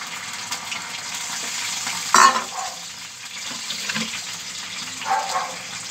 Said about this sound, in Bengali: এই যে আদা বাটাটা দিয়ে দেবো। এই কড়াতে জিরে তেজপাতা দিয়েছি।